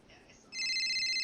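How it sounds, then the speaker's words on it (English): An in-game phone rings with an incoming call in FiveM, a bright, steady electronic ringtone that starts abruptly partway through after a soft chime and then holds loud and even. "Oh, incoming call."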